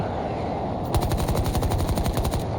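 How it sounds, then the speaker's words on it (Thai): Rapid automatic gunfire in Battlefield 2042 breaks out after a moment of steady background noise, a loud, fast string of evenly spaced shots continuing to the end. "มีคนยิงเรา"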